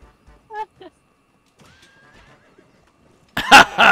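A horse neighs in the video game Rumble Club, a short whinny followed by a louder burst of game noise and movement near the end.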